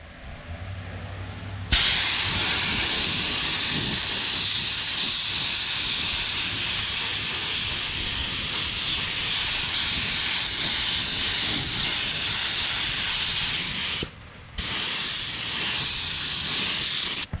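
Compressed air hissing loudly and steadily while spraying sealer onto an OBS truck body, a long continuous blast that cuts off briefly once before resuming.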